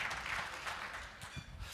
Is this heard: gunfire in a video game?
no